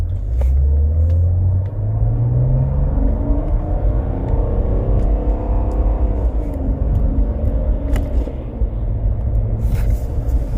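A Mercedes-Benz W210 E300 turbodiesel accelerating in first gear, its loud engine rumble climbing steadily in pitch over about two seconds before settling into a sustained drone with road noise, no talking.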